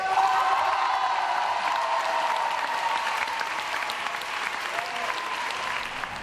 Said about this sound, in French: je vous demande d'applaudir, mesdames et messieurs